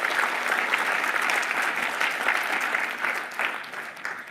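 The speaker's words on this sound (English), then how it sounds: "I want to give a quick round of applause for Kent" Applause from a seated crowd at an awards luncheon: a dense patter of many hands clapping steadily, then gradually thinning out toward the end.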